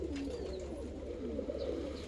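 Pigeons kept as show birds, including Hungarian and Dutch white-tailed breeds, coo softly in low murmuring phrases against a faint background hum.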